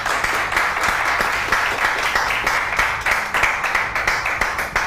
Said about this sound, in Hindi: तलत शान हेयर आर्टिस्ट, इनके लिए भरपूर तालियां होनी चाहिए